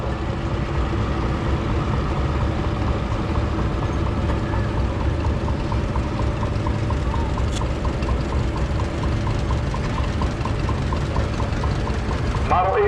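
A 1946 John Deere Model B two-cylinder tractor rolls by in a thresheree parade, its engine giving a steady, loud, knocking putt that stays close throughout the clip.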